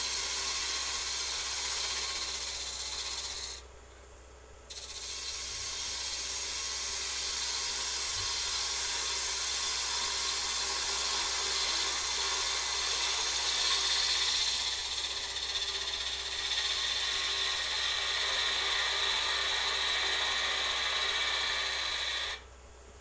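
A wood gouge cuts steadily against an Easter egg spinning on a lathe, producing a continuous close hiss and whir that dips briefly once and otherwise runs unbroken with no speech.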